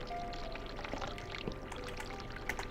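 Steady running water pours from a tap as a character washes her hands in The Cat Lady game, a continuous close stream with faint dribbles and small splashes throughout.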